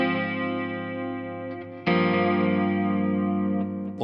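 A Seymour Duncan Dark Sun delay and reverb pedal adds chorus-like modulation to a sustained electric guitar chord, which rings and shimmers before a fresh, louder strum near the middle that sustains to the end.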